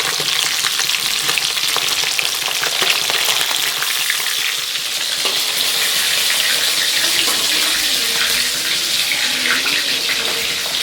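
Fish frying in a pan, a loud continuous sizzle and crackle that fills the whole stretch with no talk.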